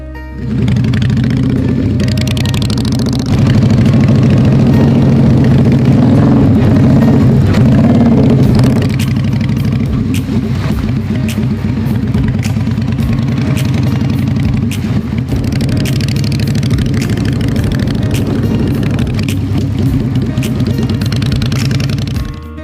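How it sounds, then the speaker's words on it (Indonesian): A 2013 Ruby V-twin 250cc motorcycle engine, in healthy condition, idles steadily and loudly up close, a continuous low throbbing rumble that holds for the whole stretch. "Jadi untuk mesinnya motor ini sehat sekali."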